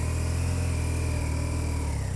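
A 2024 BMW R12 NineT motorcycle with ShiftCam boxer engine runs close by, a loud, steady low throbbing idle with slight rev fluctuation, heard alone without talk.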